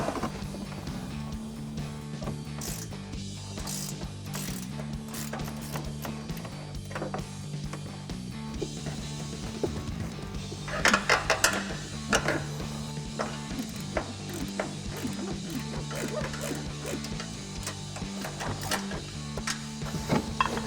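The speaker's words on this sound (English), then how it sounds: "we'll take a 15mm ratcheting wrench to remove them" 15mm ratcheting wrench removing nuts on a 2021-2024 Ford Bronco suspension, quiet rapid ratchet clicking with scattered metallic taps and clinks over a low steady hum, close by and continuing throughout with no speech.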